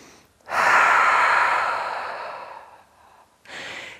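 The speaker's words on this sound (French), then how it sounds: "On relâche la respiration Ujjayi. Prenez une inspiration par le nez, une expiration par la bouche." Ujjayi yoga breathing during a pranayama practice: a long, loud breath that starts abruptly and fades over about two seconds, then a brief pause before the next breath begins.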